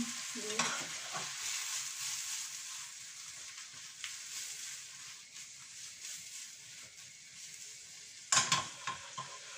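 Fresh mushrooms cook down in a pan as their juice runs out, making a quiet, even sizzle with a few scraping stirs, the loudest near the end.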